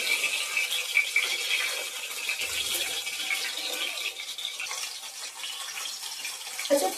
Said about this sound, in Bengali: তেলটা যে কেন এরকম ফুটছে বুঝতে পারছি না